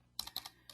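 Quick taps on a computer keyboard, a short burst of a few crisp clicks close to the microphone in an otherwise quiet room.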